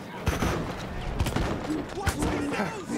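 Shotgun blasts ring out in the Battlefield 1 World War I campaign: several loud, booming shots at irregular intervals over continuous battle noise, with a voice talking in between.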